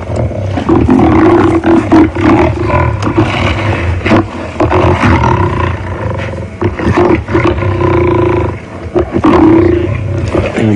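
Lions of a pride roaring at close range on an evening safari drive at Djuma Game Reserve, deep powerful roars and grunting calls repeating loudly throughout with a vehicle idling faintly underneath.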